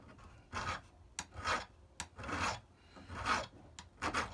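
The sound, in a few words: filing down the edge of a vise jaw with a small file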